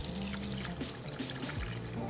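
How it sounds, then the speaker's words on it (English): Water poured onto ground coffee for cold brew, a brief, close, steady splashing pour with a gurgling trickle and no speech. "Add your water like so."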